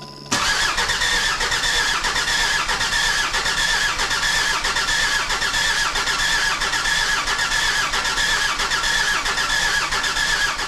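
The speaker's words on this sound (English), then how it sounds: "I had to keep on trying to crank this engine over" The 2.7 CRD diesel engine of a Jeep WJ cranks on a low battery: a loud, steady starter whir runs unbroken for about ten seconds without the engine catching.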